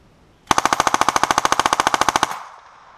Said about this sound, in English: Next up, we will try the 22 long rifle conversion kit.